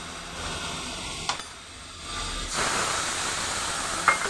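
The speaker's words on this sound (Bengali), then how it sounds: "এই মশলাটা আমি পুরো ঢেলে দেবো" Spice paste poured over fried paneer in a hot pan, giving a steady broadband hiss that swells into a louder sizzle midway, with a brief sharp clatter near the end and no talking.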